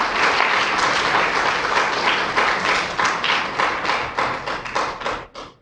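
A church congregation breaks into loud, dense applause that fills the room, then thins into scattered individual claps and taps before fading out.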